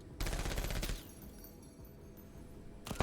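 A chain gun fires a rapid burst of shots in a turn-based video game, loud and close for just under a second, then falls back to a low hum of game ambience, with a short sharp hit at the end.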